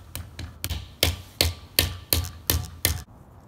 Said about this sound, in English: Now you can take a hammer and slowly tap all the way around and it'll press right in.